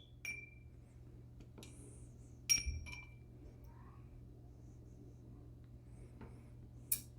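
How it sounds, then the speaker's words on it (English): Whiskey stones lifted out of a drinking glass, giving a few sparse clinks and light glass taps, loudest near the middle and at the end, over a low steady hum with no talking. "And we're gonna remove our whiskey stones."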